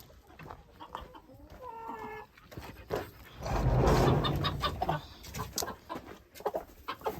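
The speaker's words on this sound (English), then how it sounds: "I'm not sure if this rooster is supposed to be in here" Chickens cluck and a rooster calls inside a homestead coop that also holds Silkie hens and a turkey, with scattered clucks and a louder burst of flapping, all fairly close.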